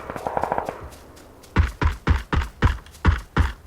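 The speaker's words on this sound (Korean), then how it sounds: "오른쪽에 총소리" A burst of steady gunfire, about seven sharp evenly spaced shots, follows a brief quieter rattling of distant shots, in the video game PUBG: Battlegrounds.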